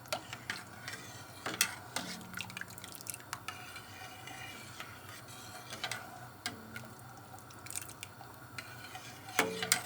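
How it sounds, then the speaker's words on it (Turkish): A spoon stirs yayla soup in a pot, scraping and clinking against the sides in irregular taps with a few louder knocks, fairly quiet and steady with no voices. "çorbamızı kaynayana kadar sürekli karıştırıyoruz"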